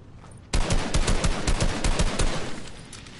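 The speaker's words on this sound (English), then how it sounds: "Keep shooting." Rapid automatic gunfire in a PS4 shooter game, loud dense bursts of shots in quick succession after a brief quieter lead-in, no talk over it.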